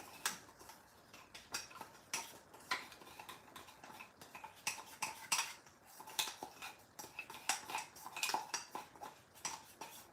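A metal spoon scrapes and clinks against a container while getting palm butter or food out in a kitchen, with quick, irregular taps and scrapes close up and no talking.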